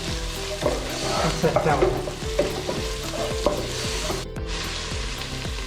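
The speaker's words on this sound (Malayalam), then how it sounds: "പിന്നെ നമുക്ക് ഉള്ളി ഇട്ട് കൊടുക്കട്ടോ. എന്നിട്ട് ഇളക്കി കൊടുക്കണേ," Sliced onions frying for a Kerala-style fish curry, a spatula scraping and stirring them through the pan in steady repeated strokes over a constant close sizzle.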